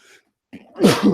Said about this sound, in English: Sorry, I got a sneeze here.